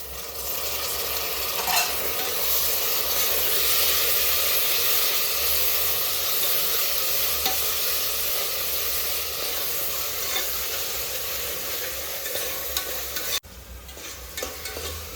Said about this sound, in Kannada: ಈರುಳ್ಳಿ ಚೆನ್ನಾಗಿ ಫ್ರೈ ಆಗೈತೆ